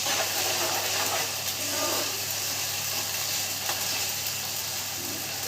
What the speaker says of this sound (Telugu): చేపల ఆయిల్ అంతా వేసుకుని అల్లం వెల్లుల్లిపాయ పేస్ట్ అలా వేసుకున్నాము